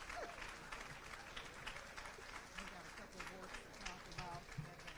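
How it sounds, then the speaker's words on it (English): Audience applause for Miss Hattie Inge, a regional leader, at Rialto's State of Women 2020 event, a steady mass of clapping lasting throughout, with a few cheers and voices mixed in. "Please, round of applause for my jewel of the Inland Empire."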